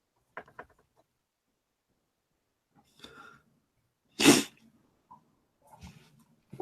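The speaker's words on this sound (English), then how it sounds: "That was a really long lead up to a pretty quick sneeze." A single quick, sharp sneeze bursts out loud and close after a few quiet breaths and faint rustles, with brief mouth noises trailing afterward.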